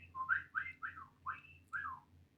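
A character whistles in a string of about five quick, bright, chirpy notes, rising and falling like speech, alone and close over a faint low hum.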